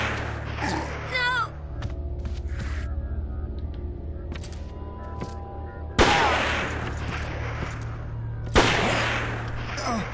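Gunfire in a video game session, several sharp bursts with a sudden loud shot at six seconds and another near eight and a half, set among game sounds and a steady background hum.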